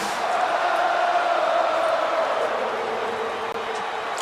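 A Paris arena crowd sings along in unison to a wrestler's entrance theme at a wrestling event, a dense, sustained wash of massed voices that stays steady and loud throughout.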